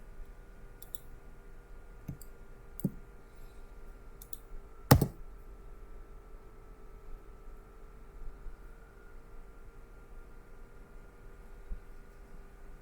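A computer mouse gives a few sparse, faint clicks at irregular intervals, with one sharper click standing out, over a quiet room hum.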